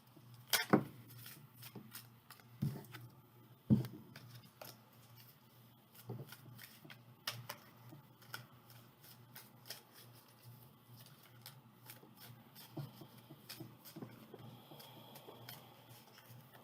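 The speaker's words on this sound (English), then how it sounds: "I never stop shuffling. I shuffle all day long." Tarot cards are shuffled in a quiet room, soft papery riffles and rubs with a few sharper slaps and taps scattered through a long stretch, faint and close, with no voices.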